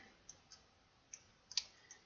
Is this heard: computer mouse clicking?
yes